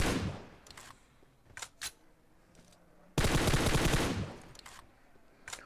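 Gunfire in a shooting video game, a few sharp isolated shots followed by a loud sustained automatic burst that tapers off, with no talking.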